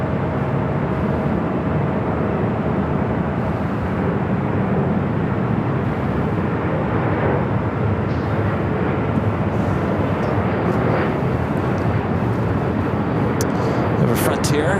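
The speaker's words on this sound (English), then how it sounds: "Japan Airlines 787-9 Dreamliner taking off 25 right on the south side." Japan Airlines Boeing 787-9 Dreamliner taking off from runway 25 right at Los Angeles airport, a steady broad jet roar that holds loud throughout, with a voice faintly under it.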